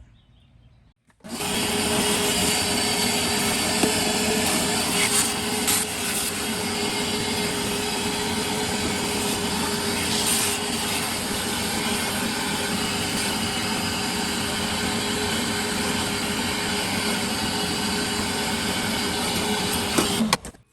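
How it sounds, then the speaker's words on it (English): A Kobalt 24V cordless shop vacuum whines loud and steady after a brief quiet start, running continuously with a constant hum and occasional faint rattles. "right now I'm just kind of doing a quick vacuum on this"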